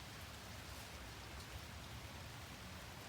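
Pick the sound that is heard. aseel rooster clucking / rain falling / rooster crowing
rain falling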